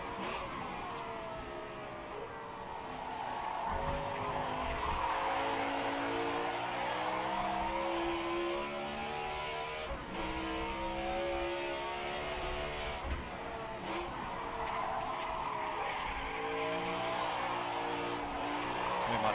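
Race car tires sliding and scrubbing in a racing video game, a steady engine drone with long smeared squeal through the whole stretch, loud and continuous without talk.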